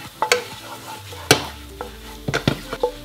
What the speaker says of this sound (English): the egg cooks really fast when you got all those vegetables